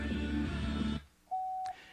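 A steady, clear electronic beep sounds once for about half a second, confirming a saved setting on a 1970 Plymouth Barracuda AM/8-track car stereo, preceded by a muffled rumble that suddenly drops to quiet.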